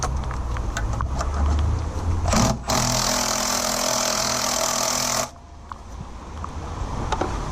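An impact gun removes bolts on a DAF LF truck during EGR valve work: a short burst, then a loud, sustained rattling blast lasting about three seconds over low workshop background noise.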